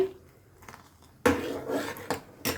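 A spoon scrapes and clinks against a pot while sago payasa in milk is stirred, quiet at first, then a few louder metallic scrapes and taps close by.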